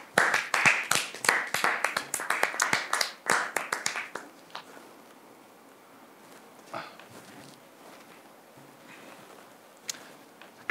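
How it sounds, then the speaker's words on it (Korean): A small audience clapping during a comedy PPT presentation sketch: a burst of sharp, close hand claps for about four seconds that quickly thins out, followed by quiet room sound with a few faint stray taps. "그분을 위해서 다 같이 박수로 마무리하죠"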